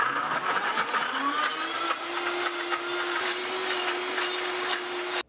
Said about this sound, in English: this blender is very strong, but it's incredibly loud